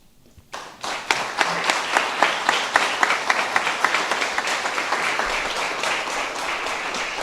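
Audience applause at a retirement send-off during a science complex ribbon cutting, a crowd of many hands clapping steadily and fairly close, starting after a brief quiet moment and holding an even, dense patter throughout.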